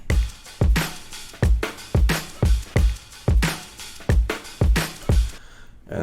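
A short electronic beat loops steadily, with punchy kicks and bright snares or claps in a regular rhythm before cutting off near the end.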